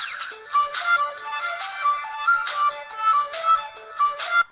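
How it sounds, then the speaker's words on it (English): A ringtone plays loudly from the speaker of a Samsung Tocco Lite S5230 mobile phone: a quick, bright melodic phrase of repeated electronic notes, clear and alone for about four seconds. "This is my ringtone."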